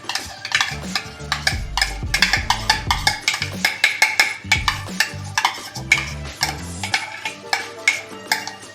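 Whipped sour yogurt cooks in a hot pan over high heat for a bottle gourd and poppy seed dish, heard as rapid rhythmic spatula scraping and clinking against the pan with a light sizzle underneath.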